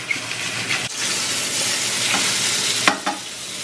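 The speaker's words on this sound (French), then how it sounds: "Maintenant, je vais les poêler côté pile et côté face." Duck breast pan-frying in a hot pan, loud, steady hissing sizzle nearby, broken by a short dip and a couple of sharp bursts as the meat is shifted or turned; no one speaks.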